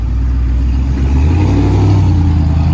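A RAM 2500 Power Wagon's 6.4L HEMI V8 revs through its exhaust, a loud, deep, steady rumble close by that swells slightly as the throttle rises, with no talk.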